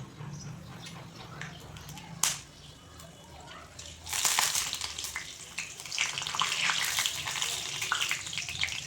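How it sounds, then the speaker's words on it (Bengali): Green chili frying in hot mustard oil, starting as a low sizzle with a sharp crack, then swelling into a loud, steady, crackling spatter that carries on to the end. "আর একটি কাঁচা লঙ্কা আমি ফ্রাই করে নিচ্ছি।"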